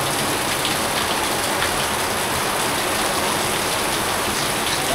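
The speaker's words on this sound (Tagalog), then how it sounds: "Malakas na ng ulan, guys." Heavy rain pours down in a loud, steady, hissing wash close by, drumming on surfaces without a break and with no voices over it.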